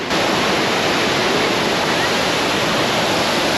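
A river waterfall near a large dam roars steadily and loudly as rushing water, a dense, unbroken wash of sound with no voices.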